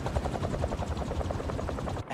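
Helicopter rotor blades in the video game Marvel's Spider-Man 2, a steady loud pulsing thump that keeps up throughout without letting up, close and dense, with no voices over it.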